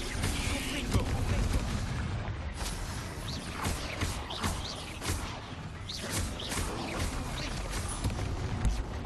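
Confringo fire spell explosions in the video game Hogwarts Legacy on Switch 2, a series of booming blasts and thumps repeating through dense game noise.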